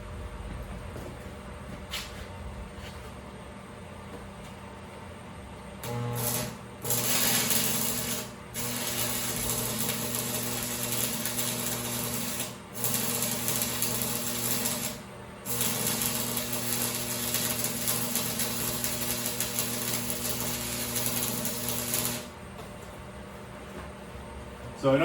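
A Hobart Stickmate stick welder runs a bead at 80 amps. It makes a steady, frying crackle and hiss over a low electrical hum for roughly sixteen seconds, broken by a few brief interruptions.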